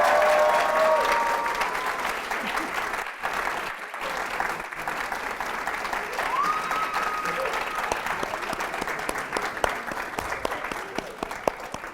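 An audience applauds at a comedy show, a dense burst of clapping that starts loud and settles into steady, sustained applause.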